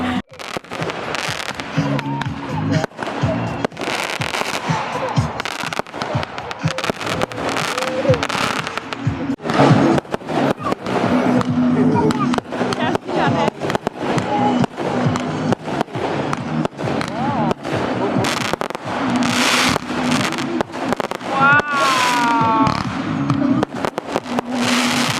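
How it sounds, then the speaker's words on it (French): A fireworks display at a campground, with dense rapid crackling bursts and sharp pops rolling on continuously, people talking and a whistling rocket rising partway through. "on s'en va au feu d'artifice"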